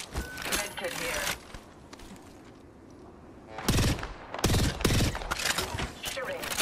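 Gunfire in the battle royale shooter Apex Legends, with loud bursts of rapid shots in the first second and again from about 3.7 seconds on, separated by a quieter stretch of game noise.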